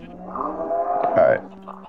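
A cow in a video game gives a short, low mooing call, fairly close and moderately loud, heard on its own with no talking over it.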